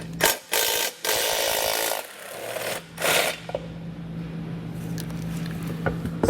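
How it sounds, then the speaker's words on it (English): A hand ratchet socket works 15mm nuts off the bumper beam of a 2021 Tesla Model 3, giving short close clicking bursts separated by pauses, followed by softer handling sounds and a faint steady hum. "We'll grab our socket and pull those out."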